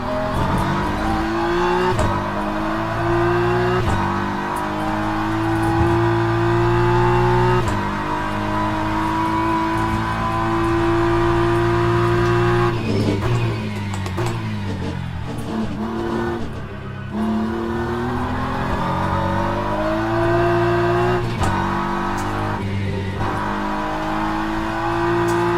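A loud GT3 race car engine in the racing game Le Mans Ultimate drones and revs continuously, heard from inside the car, pitch rising through gear shifts with brief dips, close and dominant throughout.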